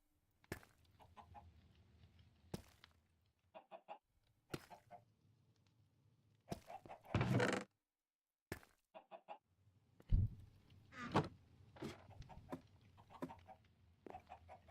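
Video game chickens cluck in short, scattered bursts in a desert town-building game, fairly faint with gaps of near silence, plus a louder flurry midway and toward the end.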